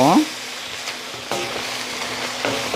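Potatoes and shishito peppers reduce in soy sauce in a pan, giving a steady, close bubbling sizzle with a brief stirring scrape at the start.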